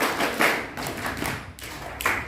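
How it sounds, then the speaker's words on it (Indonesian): A group at an Islamic boarding school gathering claps hands and slaps thighs together in a few short bursts of taps and thuds, close and fairly loud, with no voices. "Tepuk tangan, tepuk paha, petik jari"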